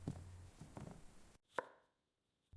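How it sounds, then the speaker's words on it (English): A knife chops fresh garlic finely on a board for garlic green beans, a few soft quick taps and one sharp close knock, then near silence. "I'm finely chopping fresh garlic for strong flavor"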